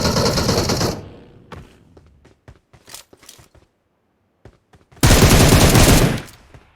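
In the video game PUBG Mobile, a loud burst of automatic gunfire opens, followed by scattered single shots and clicks, then a second long, dense volley of rapid fire near the end.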